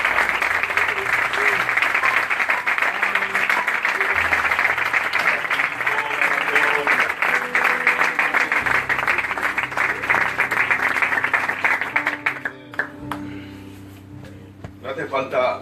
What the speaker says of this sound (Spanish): Un aplauso, perdonadme,